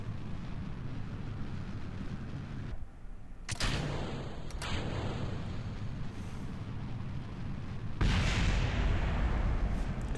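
A heavy rocket lifts off in Kerbal Space Program with a deep, rumbling engine roar. Sharp bursts cut in along the way, and the roar swells louder near the end.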